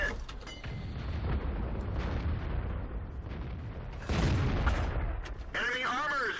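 Tank cannon fire in World of Tanks from a Kanonenjagdpanzer tank destroyer, with loud booming blasts over continuous rumbling battle noise and a brief high tonal effect near the end.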